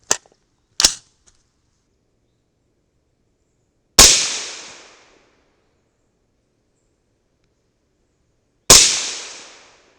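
Four sharp rifle shots from a 300 Blackout rifle fitted with a CMMG 8-inch barrel, two quick reports followed by two more spaced several seconds apart, each loud and close with a short decaying echo.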